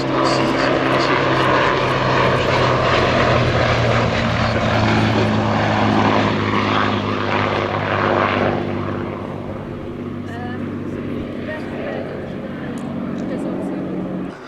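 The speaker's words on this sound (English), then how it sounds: "830 horsepower Bristol Mercury engine up front on the Gloucester Gladiator." A Gloster Gladiator biplane with an 830-horsepower Bristol Mercury radial engine flies at a vintage airshow, a loud, steady propeller drone that eases slightly as it passes, under an announcer's commentary.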